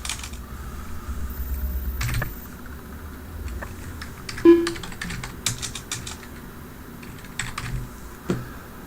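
Someone types on a computer keyboard in short bursts of quick key taps, close and clear, with pauses between the runs and one sharper click near the middle.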